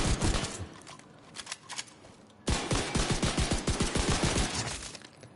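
A shotgun fires in the video game The Division 2 on PS5: loud, rapid volleys of gunfire crack in quick succession, break briefly, then resume as a longer, evenly paced burst.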